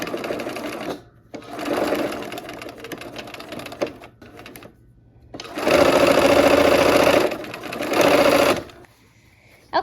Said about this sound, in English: I've got my needle down, those pins out, and I'm sewing, aiming for just on the outside of that point again.